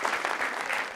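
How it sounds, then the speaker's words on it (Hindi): Women in a live audience at an Eid-ul-Adha special show clap steadily together, a dense burst of applause heard from within the crowd. "ये खवातीन तालियां बजा रही है"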